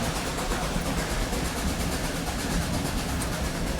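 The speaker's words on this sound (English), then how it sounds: "doesn't it sound like drums, the puffing?" Nickel Plate Road 765 steam locomotive on a 2019 valley excursion puffing steadily, a dense continuous rumble of rapid exhaust beats and rolling rail noise with no talk.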